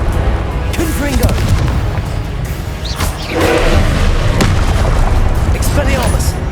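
Confringo blasting spell going off in the Hogwarts Legacy video game, a loud rumbling boom with sustained crackling blast noise, mixed with game sound and voice effects throughout.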